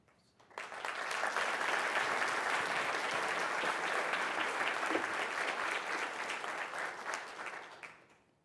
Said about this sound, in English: we can give you all a final round of applause